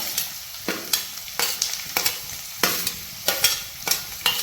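Finely chopped onions sizzle steadily in a hot pan for a bitter gourd dish, with repeated scraping stirs breaking through the frying hiss at an uneven rhythm, close and fairly loud.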